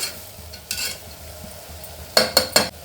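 Sprouted horse gram being stir-fried in a tempering of hot oil: a spatula scrapes the pan in a few scattered strokes, then three quick scrapes in a row, over a faint sizzle.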